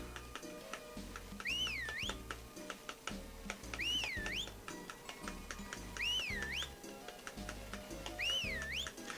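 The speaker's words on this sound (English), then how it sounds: "all I gotta do now for the last hour and a half of this day is just whistle" In the video game Harvest Moon: Magical Melody, a whistled tune repeats four times in wavering rising-and-falling phrases over looping background music with steady ticking beats.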